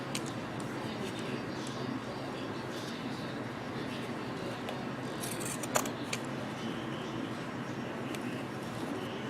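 Quiet snipping of paper with scissors while making a journal, soft cuts under faint background hum, with one sharper snip midway.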